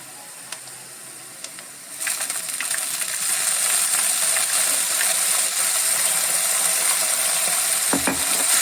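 Veg Manchurian sauce with soy sauce is stirred in a pan. A steady sizzle rises after a couple of seconds of quieter scraping. The spoon clinks and scrapes against the metal now and then, close and moderately loud, with a louder scrape near the end.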